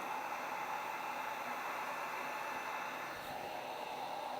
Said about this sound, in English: So right here I'm using a heat gun